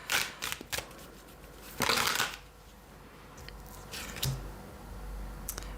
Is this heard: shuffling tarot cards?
yes